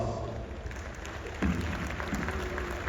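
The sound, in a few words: applause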